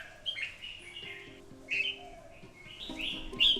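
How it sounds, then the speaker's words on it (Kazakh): Birds sing at dawn in Koh Panyee, a Thai stilt village over water, with several short bright chirps and calls spread across the moment at moderate distance and no talk. "Олардың таңғы сайрауы оянуға белгі бергендей."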